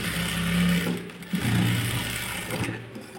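A sewing machine stitches silver piping onto a blouse, running in a fast whirring buzz that pauses briefly midway and then resumes, close and fairly quiet.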